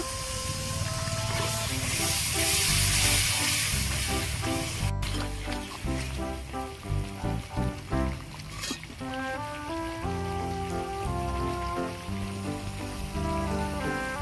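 A little water goes into frying Kashmiri aloo dum gravy, setting off a loud, bright hiss and sizzle for about five seconds that then fades beneath steady background music.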